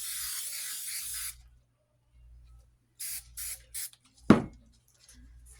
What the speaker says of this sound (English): Then I spray the top of that.